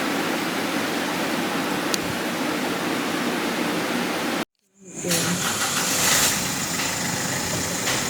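A car engine idles in a steady, noisy hum while its gear will not engage. The sound drops out abruptly for a moment, then returns just as loud.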